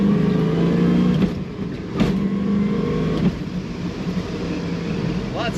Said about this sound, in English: Lots of fun to accelerate in this car.